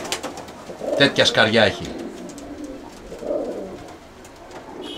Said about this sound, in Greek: Αυτά είναι τα περιστέρια.